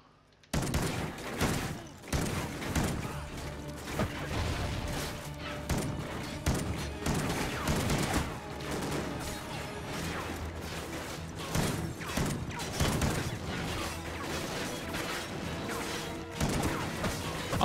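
Call of Duty Ghosts gunfire in a Las Vegas casino bar lounge: dense, continuous volleys of shots and crashing impacts fill the whole stretch, loud and busy, with a brief quiet lead-in.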